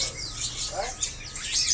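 Cucak ranting birds chirp in quick, high, bright bursts, several overlapping calls close by at a bird shop, with a low background murmur beneath.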